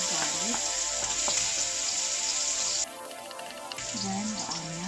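Garlic sizzles and fries steadily in a hot pan at the start of a squid stir fry, a close, continuous crackle with faint voice snippets over it.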